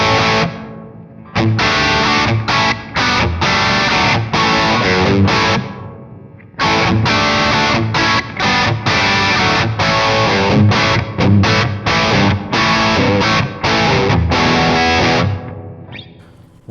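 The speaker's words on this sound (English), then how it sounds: "it has built-in reverb here, where if I turn it up for some ambiance" An instrument plays through its built-in reverb turned up for ambiance, giving a loud, distorted sustained tone with struck chords, a brief pause near the middle and a fading tail at the end.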